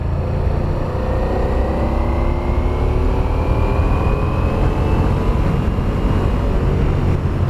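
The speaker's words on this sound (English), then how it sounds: "now I'm going to throttle up and see if we can hear a difference between the 2 and the 4 cylinder" A 2023 Ducati Diavel V4 motorcycle engine throttles up, a loud, steady, low rumble with slowly rising tonal whine, continuous and close for several seconds, with no voices.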